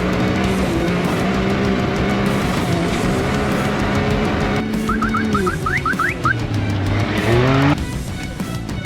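Can-Am X3 side-by-side engine revving and climbing a blow sand dune at Ocotillo Wells, loud and close, with shifting engine pitch, a brief squealing burst and rising revs near the end.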